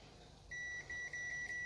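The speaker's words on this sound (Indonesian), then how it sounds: "Bisa kita ukur dengan menggunakan multitester skala buzzer." A multimeter's continuity buzzer sounds while a cable inside a Sanyo Aqua LED TV is tested, giving a thin, steady electronic beep that starts abruptly and stutters with several short breaks as the probes touch, faint and without talk.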